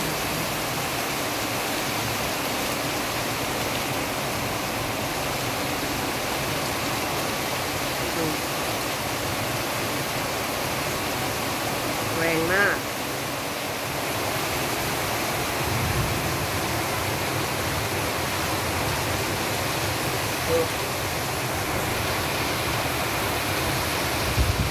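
Steady, dense broadband wash of heavy rain pouring down in Bangkok, heard from indoors on an upper floor, continuous and even throughout with no voices.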